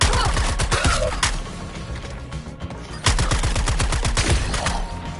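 Video-game gunfire in Suicide Squad Kill the Justice League: rapid rhythmic volleys of shots come in two dense bursts, loud and close, with a short lull between them and no talk.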